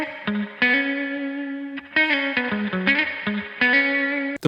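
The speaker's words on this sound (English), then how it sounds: "The spring reverb is based on classic 60s guitar amps." A distorted electric guitar plays short chords and single notes through a spring reverb effect modeled on classic 1960s guitar amplifiers, each stab trailing a metallic splashy tail, loud and alone with no voices.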